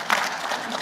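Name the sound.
audience clapping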